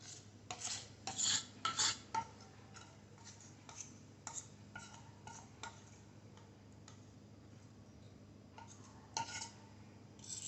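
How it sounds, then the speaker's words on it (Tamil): Eggless mango cake batter going into a cake mould, followed by a series of sharp tapping knocks of the mould on a surface. The knocks come in irregular bursts over a steady low hum, close and fairly quiet. "பேட்டரை மோல்டில் சேர்த்த பிறகு இந்த மாதிரி கொஞ்சம் நல்லா தட்டி விட்டுக்கலாங்க"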